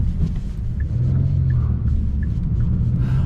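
A Hyundai Sonata N Line tackles a gymkhana course, its engine a deep continuous rumble that rises and falls slightly as the car works through the run.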